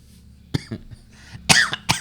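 Several sharp coughs, one short and a couple louder bursts, close up with brief pauses between them and no talking.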